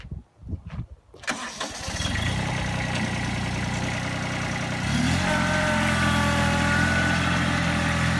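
A small Kubota B21 backhoe loader's diesel engine cranks, catches after a few seconds and settles into a steady close idle, rising slightly in pitch partway through.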